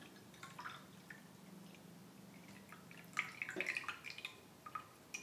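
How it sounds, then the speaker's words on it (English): Rinse water from a dry, ripe fermented purple puerh tea is poured out, giving a faint, soft trickle with scattered drips and splashes that grows a little louder toward the end. "Pour the wash in here."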